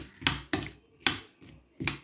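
A utensil stirs jaggery syrup into food in a cooking pot, making five evenly spaced scraping knocks, close by and fairly crisp, with no talking over them.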